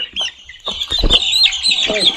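Farm chickens about 18–19 days old cluck and squawk close by while they are handled for a first H5N2 bird flu vaccination, the sounds busy and overlapping, with a voice briefly audible among them.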